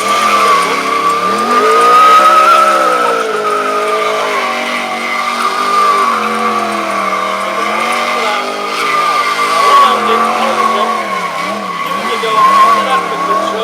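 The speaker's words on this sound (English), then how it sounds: "That was one of the best set of donuts he's done for a while." A Yamaha R1 sport bike spins donuts at a stunt show, its engine droning and rising and falling in pitch while a loud, sustained tire squeal wails across the whole stretch.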